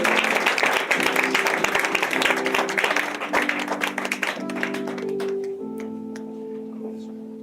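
A church congregation claps loudly and steadily in a dense roar of applause that thins out after several seconds, leaving sustained tones and a faint voice.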